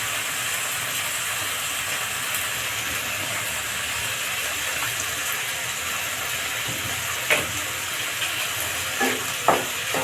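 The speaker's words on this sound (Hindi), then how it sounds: "प्याज फ्राई हो गया है। इसी में हम टमाटर ऐड कर देंगे।" Fried onion and tomato sizzle softly and steadily in a pan for Punjabi sarson ka saag, with a few faint knocks of stirring near the end.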